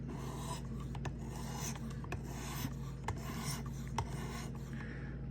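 Sharpening a Ferrum Forge Massdrop knife blade on a 600 grit stone: continuous close-up rasping strokes of steel scraping across the stone, with faint clicks at intervals.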